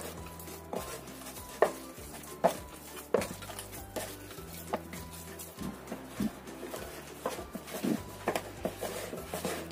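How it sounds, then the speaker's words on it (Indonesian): Pizza dough, worked with about two tablespoons of cooking oil, is kneaded by hand on a surface, giving soft irregular thumps and slaps with occasional sharper knocks, fairly quiet and without talk. "Kemudian kita ulenin lagi sampai benar-benar kalis."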